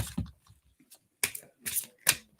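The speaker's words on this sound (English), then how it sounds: "We're going to keep shuffling because that was like too many cards at once." Tarot cards are shuffled by hand in several quick, crisp bursts separated by short pauses, close and with no talk.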